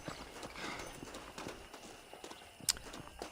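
Horse hooves in Red Dead Redemption, a quiet steady clip-clop of walking hoofbeats with one sharp click near the end, under faint game ambience.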